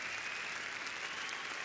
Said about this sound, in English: standing ovation from most crowd here in Cleveland